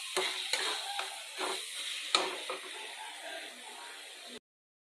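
Onions frying on medium heat in a little oil for a mutton dish cooked with milk, with a steady hissing sizzle and several sharp spatula scrapes and knocks against the pan, close up before abrupt silence.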